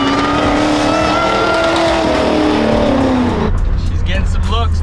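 A supercharged 1973 Ford F100 pickup with a custom exhaust drives close by, its engine roaring loudly with the pitch falling as the revs drop, then a voice speaks briefly over the idle.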